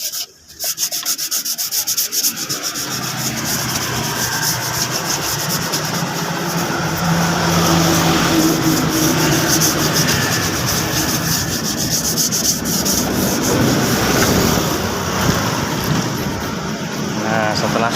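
A motorcycle body panel sanded by hand before painting, a continuous close rasping scrub that runs steadily with a roadside engine hum beneath, while someone talks over it.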